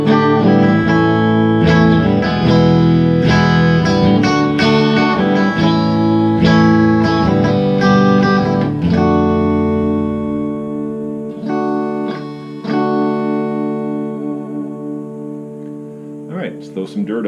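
A PRS SE Custom electric guitar plays clean coil-split tones, strummed chords and picked notes ringing brightly and close, then trailing into a sustained fade with a few final plucks.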